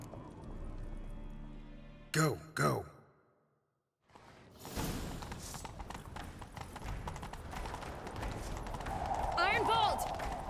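Rapid galloping hoofbeats thunder steadily after a brief shouted exchange in The Witcher 3: Wild Hunt, with swishing movement and a short whinny-like cry near the end.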